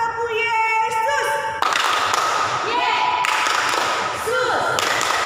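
Children in an online church service clap along in bursts, thumping and slapping rhythmically while an adult voice speaks and sings over the clapping.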